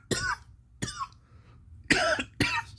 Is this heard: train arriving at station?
no